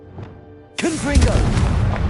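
A Confringo fire spell goes off in Hogwarts Legacy, a sudden loud booming blast that erupts and then roars on with a crackling rumble; a voice calls out just before it.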